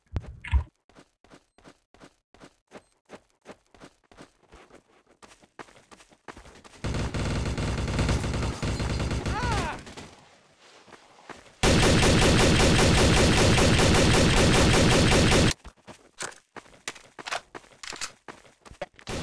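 Rapid bursts of gunfire from the Trouble in Terrorist Town video game, scattered single shots and clicks framing two long sustained automatic volleys, loud and close with no talk.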